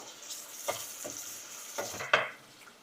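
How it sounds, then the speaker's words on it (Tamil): Onion and tomato sautéing in a pan for mutton liver gravy: a soft, continuous sizzle broken by several distinct scraping stirs of a spoon, the last one loudest. "இப்போ இது கூட ஒரு தக்காளி சேர்த்துக்கலாம் தக்காளியும் நல்லா வதங்கட்டும்"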